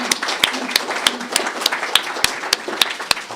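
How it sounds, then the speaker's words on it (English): A church congregation claps in a steady, even rhythm, sharp hand claps landing roughly three times a second with no voices over them. "Let's give them a round of applause."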